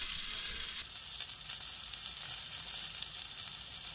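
Sausages and black pudding frying in a pan while camper cooking, a steady close crackling sizzle that holds evenly throughout.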